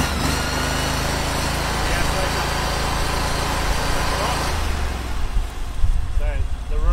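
A Panther water jetter's engine runs steadily under pressure with a loud, constant drone, shifting in tone toward the end as someone talks over it.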